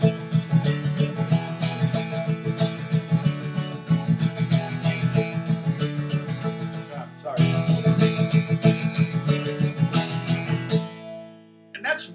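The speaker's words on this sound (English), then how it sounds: "if I were to change the straight eighth notes to sound like this." Guitar strums straight eighth notes through a B section, a dense, even rhythmic chord pattern that stops briefly midway, resumes, then ends on a ringing final chord; no speech.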